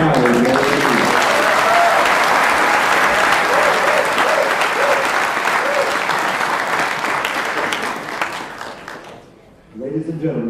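Sustained loud applause from an audience at a military retirement ceremony, steady for about nine seconds with a few voices mixed in, then fading briefly before a fresh burst of clapping.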